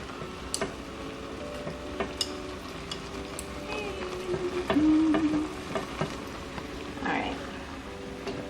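Bulgogi meat fries in a pan with a low steady sizzle, punctuated by scattered clicks and scrapes as pieces are turned over, close up with no talking.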